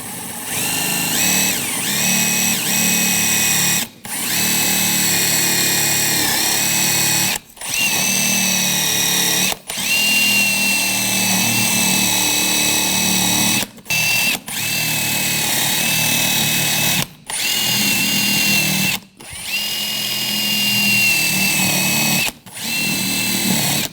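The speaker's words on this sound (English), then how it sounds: "We'll use a wire brush," A power tool fitted with a wire brush cleans the rear brake caliper bracket of a 2014-2020 Nissan Rogue, whining loudly in a string of sustained bursts separated by brief stops.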